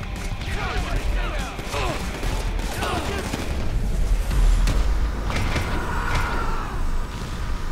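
A tank approaching and firing in the video game GTA V on PS4, heavy rumbling engine and clanking mixed with bursts of gunfire and crashing impacts, loud and continuous.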